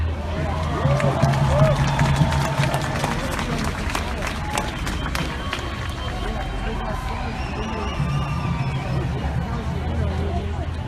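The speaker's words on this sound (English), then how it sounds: "let's welcome them with a round of applause" A crowd at a night-time outdoor rally on inauguration night, 20 January 2017, breaks into applause and cheering, a dense, sustained roar of clapping and shouting over steady loud chatter that runs through the whole stretch.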